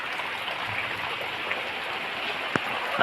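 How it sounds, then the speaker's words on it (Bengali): Heavy rain falls steadily in a continuous dense hiss, near and fairly loud, with a single sharp drip or knock standing out near the end and no speech. "আমার থেকে খুব বৃষ্টি পানি পড়ছে"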